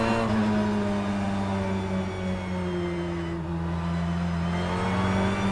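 BTCC touring car engine in the rFactor 2 racing game drones steadily with a strong low harmonic tone and a high transmission whine layered over it, loud and continuous with no talk.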